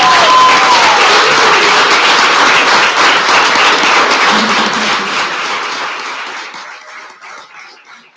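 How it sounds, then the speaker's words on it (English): A city council meeting audience applauds a proclamation, bursting into loud, dense clapping at once, holding it steady, then thinning and fading out toward the end. "Join me in clapping for him, please."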